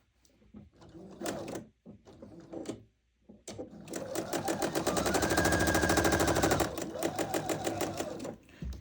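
A sewing machine stitches quilt pieces together with a quarter-inch seam, starting with a few short bursts and then running in a long steady rapid whir, close by, with faint handling noises between runs.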